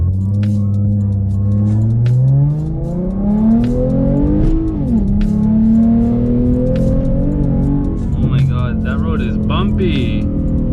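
A Ford Mustang 3.7L V6 with an X-pipe and muffler delete exhaust revs up loudly and close by, its engine pitch climbing through a gear, dropping at the shift, then rising again, raspy and prominent throughout.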